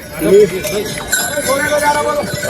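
Horses clip-clopping on the crowded Kedarnath pilgrimage trek, the hoof beats close and irregular beneath nearby voices and chatter.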